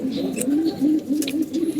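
Pigeons in a loft coo close by, repeating soft rolling coos in a steady rhythm with a few faint rustles between them.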